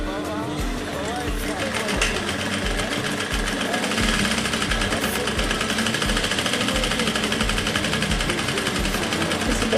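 A sewing machine stitches a blouse dart in a steady, fast mechanical chatter with a regular low thump, running continuously up close while a person talks over it.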